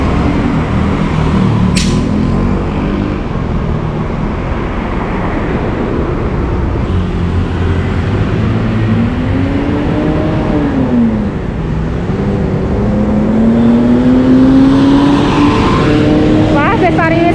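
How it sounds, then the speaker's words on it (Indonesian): A tour bus passes on the road with a steady engine roar that swells and rises in pitch as it goes by, while voices talk nearby. "Wah, bus pariwisata. Itu pariwisata ke Jogja apa ke Bali ya?"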